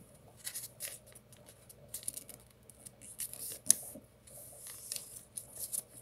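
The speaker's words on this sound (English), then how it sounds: "then you fold it down and do the same that you did on the other side" Crisp paper crinkles and rustles in short, irregular bursts close by, with soft creasing scrapes and occasional sharper crackles.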